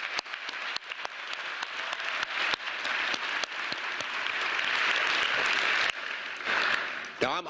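Sustained applause from a large commencement audience fills the space, dense steady clapping swelling toward the end with scattered cheers mixed in.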